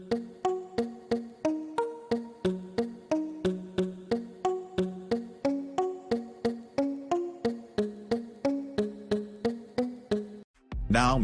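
Synth pluck melody in FL Mobile with soft distortion, rolled-off highs and reverb: a continuous stream of rhythmic plucked notes, fuller and washier than dry, each tail blending into the next, closing with a brief swell.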